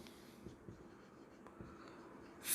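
A pen writing on paper, soft scratchy strokes in short irregular bursts, faint and close in a quiet room.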